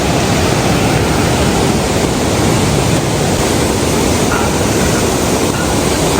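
Kanthanpara waterfall in the Wayanad hills of Kerala pours with a loud, steady, unbroken roar of rushing water, with no voices.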